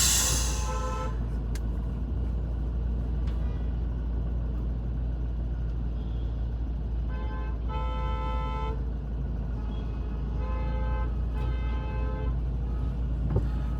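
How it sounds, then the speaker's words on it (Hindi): Car horns honk on a congested highway between Coimbatore and Bangalore, a few short toots and one longer blast sounding over a steady low road and engine rumble from inside a Toyota Fortuner. "हॉर्न दो लोग ऐसे मार रहे हैं, बड़ा हॉर्न सबको उनको मार रहा है सामने वालों को"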